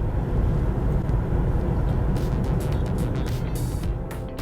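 A BMW M440i xDrive coupe is driven hard in a drift, its engine roaring as a loud, continuous low rumble, with bursts of hissy tyre and wind noise toward the end and no voices.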